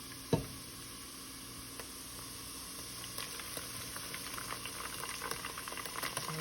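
Peppers hitting hot grease while cooking egusi, a soft thump followed by a continuous low sizzle and bubbling that grows busier with tiny crackles, heard alone without talk.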